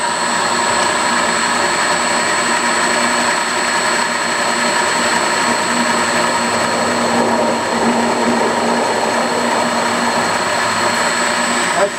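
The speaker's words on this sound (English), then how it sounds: "I'm gonna go ahead and try to drill this, put a pilot in there." A power drill whines continuously at a steady high pitch while drilling a pilot hole in a metal hydraulic pump bracket, loud and close, with no pauses.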